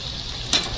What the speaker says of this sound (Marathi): सगळे मसाले कांद्यामध्ये परतून घ्यायचे